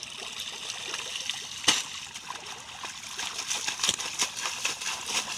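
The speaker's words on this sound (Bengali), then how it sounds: "পাট ধুচ্ছে।" Jute fibres are sloshed and rinsed in a rural pond after retting, giving continuous close trickling and splashing water with occasional sharper splashes, no speech.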